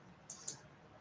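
Two quick, faint computer keyboard clicks a fraction of a second apart, set against a quiet room hum with no talking.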